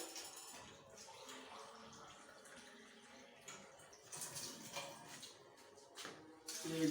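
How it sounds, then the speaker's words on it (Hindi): Water poured steadily into a bowl of chicken pakora marinade with vinegar and spices, a continuous splashing and trickling that swells near the end, with no voices over it. "पानी ऐड करेंगे।"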